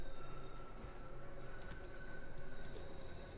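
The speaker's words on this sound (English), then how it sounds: "Our train is just approaching Elephant and Castle." A London Underground Bakerloo Line train pulls into Elephant and Castle station in a rail simulator: a steady rumbling rolling drone with faint tonal whine and a few brief metallic clicks, no voices.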